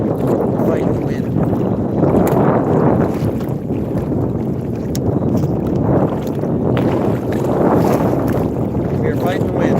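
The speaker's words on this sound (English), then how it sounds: "We are fighting the wind." Steady wind buffets a boat out on a lake during a fishing trip, a loud continuous rush and rumble of microphone wind noise with gusts swelling and easing throughout.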